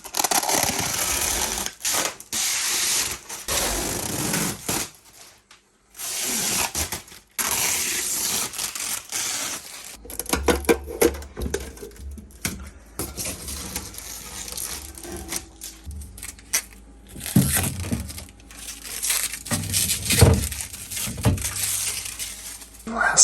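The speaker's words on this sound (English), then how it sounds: "Let's remove the plastic wrap." Plastic protective wrap crinkling and tearing as it is peeled off a new Everchill 12V fridge from RecPro, a long stretch of loud, uneven rustling and crackling bursts with brief pauses in between.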